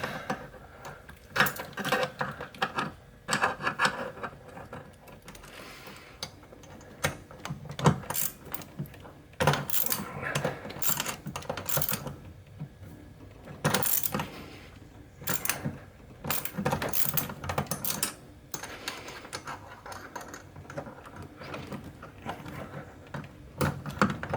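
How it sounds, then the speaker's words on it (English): Needle-nose vise grips clamping and working at a tight brake booster fitting on a Ford Contour: quiet, scattered metallic clicks, taps and scraping bursts with short pauses between efforts. "I got some needle nose vice grips."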